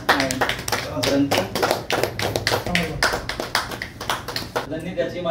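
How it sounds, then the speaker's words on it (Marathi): An audience claps at an honouring ceremony for a senior literary figure, where a shawl, coconut and book are presented. Dense, continuous applause close by, many hands beating quickly, with a voice speaking over it. "टाळ्या वाजवा"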